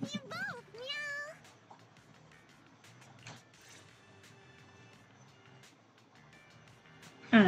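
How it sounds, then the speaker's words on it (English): A short cat-like meow voiced in the Zenless Zone Zero video game, a wavering high call at the start, followed by quiet game sounds and a loud burst at the end. "Meow."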